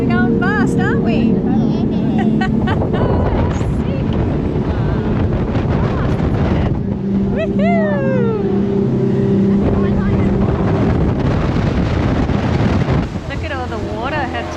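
Jet boat speeding over turbulent water on a Kimberley coast excursion: a loud, steady engine and rushing water roar with wind buffeting throughout, while people talk and call out over the noise.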